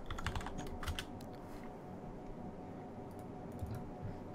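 Fast typing on a computer keyboard while entering terminal commands, a quiet, close run of light key clicks in bursts, with brief pauses between groups of strokes.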